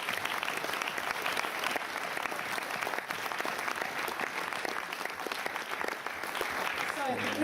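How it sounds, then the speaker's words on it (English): Sustained applause from a seated audience at a school celebration evening, a dense, even patter of many hands clapping at moderate distance. "Let's give everybody a round of applause"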